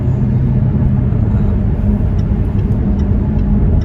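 A 2020 Jaguar F-Type P300 R-Dynamic coupe with a 2-litre turbo engine while driving, a loud steady low rumble of engine and road noise from inside the cabin, with no voices.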